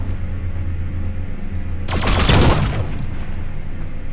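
A short burst of gunfire from the video game The Signal From Tölva rattles out as a rapid fusillade lasting about a second, sharp and loud over a low steady hum, with a final crack after it; a voice speaks briefly.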